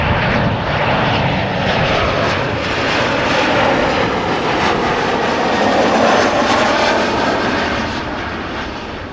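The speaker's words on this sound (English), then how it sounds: "a Lufthansa 747 flying from east to west" A Lufthansa Boeing 747 passes overhead at Amsterdam Schiphol, its engines a loud, steady broadband roar that fills the whole stretch and eases slightly toward the end.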